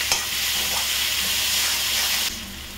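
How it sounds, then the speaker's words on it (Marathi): Malvani masala is sautéed in hot oil in a pan over a high flame, making a loud, continuous hissing sizzle that drops in level shortly before the end, with no speech. "गॅस थोडा फास्ट करून मसाला परतून घेऊया"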